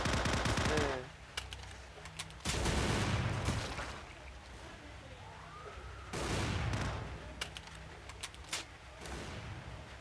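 Video game gunfire comes in loud bursts of rapid automatic shots with quieter stretches between them, and bright chirping game effects weave through the background.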